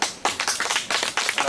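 A group at a spiritual gathering claps hands together in thanks. The claps come close and crisp in a quick, fairly even rhythm, with a brief pause midway.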